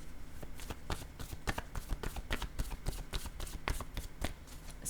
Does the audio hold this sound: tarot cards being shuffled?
yes